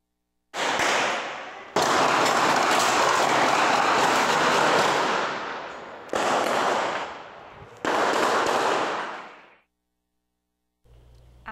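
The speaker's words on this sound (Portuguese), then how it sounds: "Vamos ouvir agora o tiroteio." Sustained bursts of gunfire from a street shootout, caught in a news recording: loud, dense volleys of rapid shots in several long stretches separated by brief pauses, with the sound ending abruptly.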